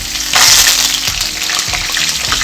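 Ginger, garlic and curry leaves drop into hot oil and sizzle loudly with a sudden hiss that holds steady and close, while faint stirring scrapes run underneath.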